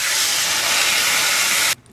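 Water poured into a hot pan of frying potatoes and Malabar spinach sets off a loud, steady hiss that fills the clip and then cuts off abruptly near the end.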